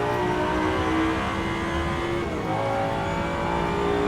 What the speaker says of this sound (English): the engine sounds absolutely horrible